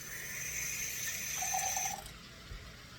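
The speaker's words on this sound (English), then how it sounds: "then you just add a little bit of water and let it cook" Water is added to turnip greens and bacon cooking in a pan, giving a steady sizzling hiss that fades partway through, with a brief thud near the end and no talk.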